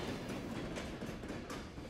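Northern Central Railway inaugural excursion train at the historic New Freedom station, a steady broadband rumble of rolling railcars with faint clickety-clack, fairly loud and continuous, no voices.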